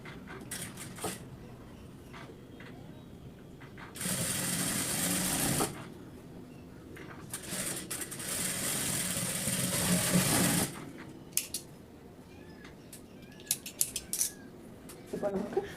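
Electric sewing machine stitching a chudidar top in a tailoring workshop: two sustained bursts of steady whirring, about four and five seconds long, separated by quieter handling clicks, with scattered small taps and rustles afterward.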